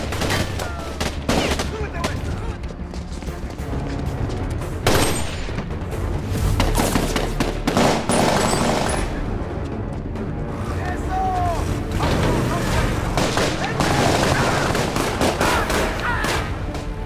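Rapid gunfire and sharp bursts ring out during a brief shootout in an action film, dense and loud throughout, with a narrating voice running over the chaotic exchange of shots and impacts.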